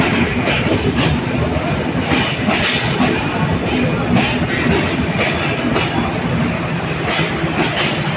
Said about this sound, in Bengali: 6:55 চিত্রা এক্সপ্রেস আপনারা দেখতে পাচ্ছেন